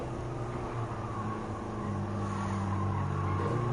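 Steady, loud engine drone of a classic Alfa Romeo Giulia Sprint GT Veloce racing in Gran Turismo 7, a continuous roar at fairly constant pitch with no talking over it.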